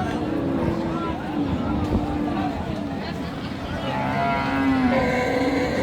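Cattle low at the Raniganj livestock market in Dinajpur, with several drawn-out moos rising above the crowd noise while a man discusses a cow's weight and age nearby.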